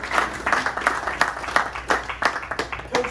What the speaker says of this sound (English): Monique, give her a round of applause.